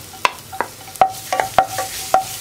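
Chopped ginger dropped into coconut oil in a pan gives a faint sizzle, broken by sharp spatula clicks and taps at an irregular rhythm, close and fairly quiet.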